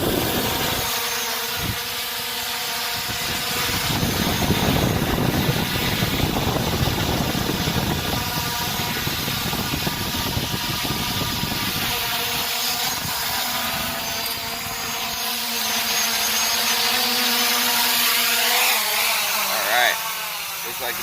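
A Holy Stone HS700 FPV drone buzzes steadily in flight outdoors with its propellers whirring. The sound is a continuous droning whine whose pitch shifts as the drone turns in gusty wind, with wind rumble throughout.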